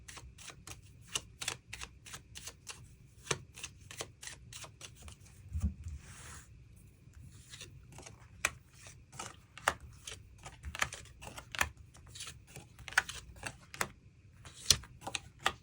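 Tarot cards being shuffled and drawn, making rapid crisp clicks and snaps in quick bursts with brief pauses, close and quiet.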